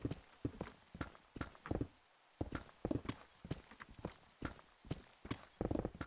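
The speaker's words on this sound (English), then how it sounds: "Oh yeah, that's the donkey." Donkey footsteps in Minecraft, an uneven run of crisp hoof clops, some paired, close and clear against a quiet background over about six seconds.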